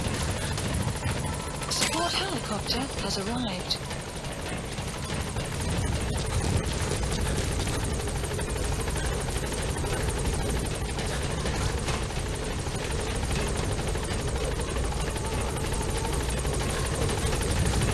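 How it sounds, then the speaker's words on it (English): A support helicopter in Metal Gear Solid V thunders overhead with a steady, loud rotor chop and engine roar that never lets up, while a player talks and in-game radio voices speak over it. "Support helicopter has arrived."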